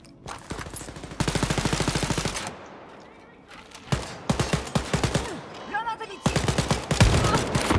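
Rapid bursts of automatic enemy gunfire from the shooter Wolfenstein Youngblood come loud and close in several long strings, broken by shorter volleys and brief pauses.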